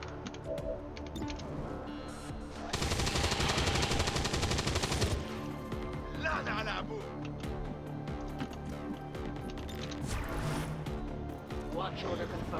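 Gunfire in the video game XCOM 2: a rapid, loud burst of automatic fire lasting a couple of seconds, followed by scattered lighter game effects and clicks under someone talking throughout.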